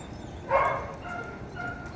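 A dog fighting gives one sharp bark, followed by softer yips and whines, close by against a faint background.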